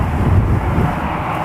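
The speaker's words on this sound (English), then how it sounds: "737 MAX 8 headed to Mexico City" An Aeromexico Boeing 737 MAX 8 jet airliner at Toronto Pearson Airport gives off a steady, loud, low roar mixed with wind noise on the microphone.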